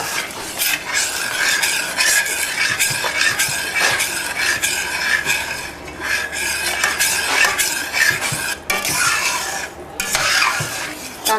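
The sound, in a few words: stirring chana dal frying in ghee in a pan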